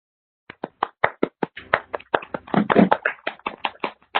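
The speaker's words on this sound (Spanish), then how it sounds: "le demos un aplauso a nuestra" Online audience applause for a speaker at a video-conference session, sparse separate claps that thicken into a denser cluster, then thin out again over clear silence, sounding thin and close through microphones.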